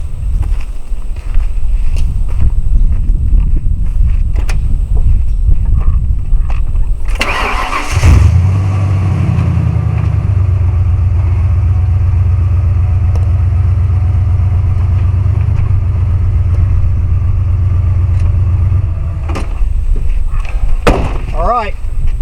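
A 1992 Ford F-150 pickup cranks and starts near a Glock magazine placed under its tire, then settles into a loud, steady idle before the engine note changes. People talk and move about before it starts.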